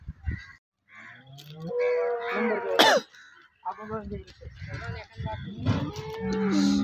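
Cows moo several times at a busy cattle market, with long, close, loud calls. People talk and cough between and over the calls.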